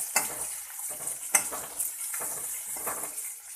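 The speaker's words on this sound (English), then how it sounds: "Now I am adding 1 chopped onion" Chopped onion hits a hot frying pan for benne masala dosa, a steady sizzle with four sharp stirring scrapes recurring at regular intervals, close and moderately loud, without talk.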